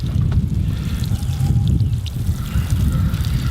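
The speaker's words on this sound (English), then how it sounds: "I'm going to grab my watering can here" Water pours and trickles steadily from a watering can onto freshly planted lettuce in a garden, a close, continuous splashing stream with no speech.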